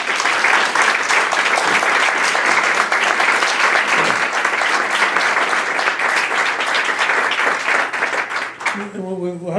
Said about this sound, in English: Please give them both a round of applause.